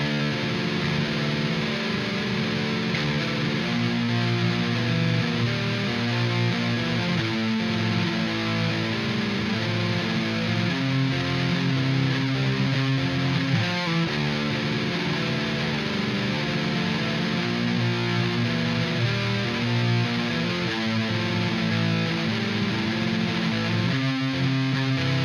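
A continuous, gritty distorted electric guitar riff plays without pause, dense and buzzing, at a steady volume throughout.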